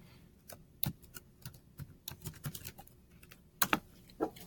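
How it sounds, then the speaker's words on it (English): Keys clatter on a computer keyboard as a password is typed, an uneven run of soft close clicks with a few louder strokes near the end. "when you type in the password"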